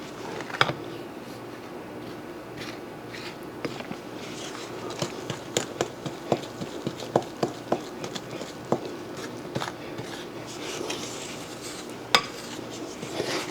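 A utensil scrapes and clinks against a bowl while stiff blondie batter is mixed, giving irregular knocks and taps over a quiet background.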